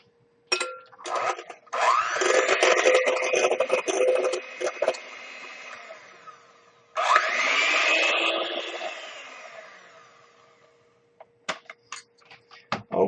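An electric hand mixer whirs in two bursts, mixing a teaspoon of pure vanilla extract into an egg mixture in a bowl, with a whining motor pitch that rises and falls, then clicks and taps as it stops.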